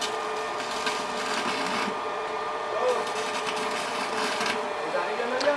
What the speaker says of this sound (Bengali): দেখতে পাচ্ছেন একদম লোতে ওয়েল্ডিংটা হইতেছে